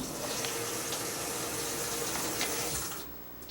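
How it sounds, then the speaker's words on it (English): Hot water runs steadily from a tap with a broad, even rush that holds for about three seconds, then drops away abruptly near the end as the flow is cut. "And there's the hot water."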